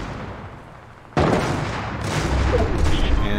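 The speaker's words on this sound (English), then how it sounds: "they're still getting shot at from the sniper over here" Sniper rifle fire in Fortnite, a sudden loud crack that cuts in sharply after a quieter stretch, followed by sustained rumbling battle noise with further bursts.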